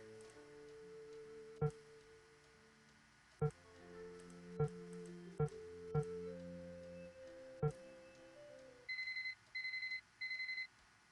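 Alarm clock going off at midnight in Nancy Drew: Curse of Blackmoor Manor, a series of ticking clicks and tonal chimes followed by three short electronic beeping bursts, fairly quiet and alone.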